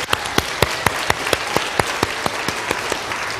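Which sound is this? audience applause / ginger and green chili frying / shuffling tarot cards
audience applause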